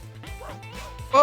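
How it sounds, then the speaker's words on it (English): A dog in the Hop: The Movie Nintendo DS game gives short, repeated electronic barks over a looping low beat, ending with a louder yelping cry. "Yeah, those dogs were mad."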